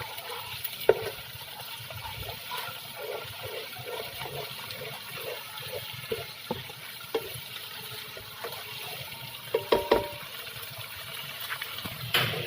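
Korma base frying in a pan, with a steady sizzle and repeated scraping stirs at a regular rhythm, close and moderately loud, with no talk.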